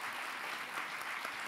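An audience at an accordion orchestra concert applauds in a faint, steady wash of many hands, heard from a distance with no voices over it.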